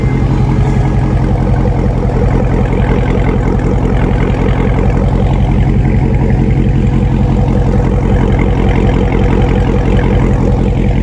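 A Dodge Charger Daytona 392 V8 with its mid-muffler deleted idles with a deep, loud, rumbling burble that stays even and close for the whole stretch, without any voices.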